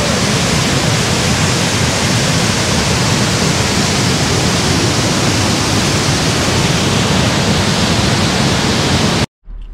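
At Nay Aug Park in Scranton, a waterfall roars as a loud, steady, close broadband rush that stops abruptly at the very end.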